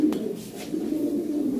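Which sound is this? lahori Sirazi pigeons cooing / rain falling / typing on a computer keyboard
lahori Sirazi pigeons cooing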